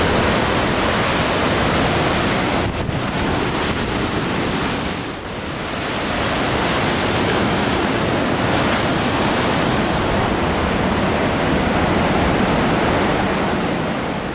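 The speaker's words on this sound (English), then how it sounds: "the huge swells that come from outside slam into the small space" Huge ocean swells slam into a small sea grotto during a typhoon, a loud, continuous roar of churning surf with brief dips in intensity, no voices.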